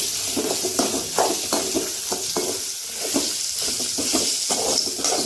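Bitter gourd fries in a pan with a continuous sizzle, broken by repeated rhythmic scrapes and clacks of a spatula stirring it, close and clear, no speech.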